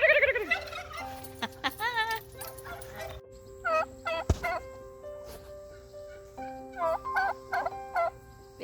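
A person imitates a turkey gobbling outdoors, giving several short, warbling gobble bursts in uneven clusters, close and fairly loud, with pauses and quiet background in between.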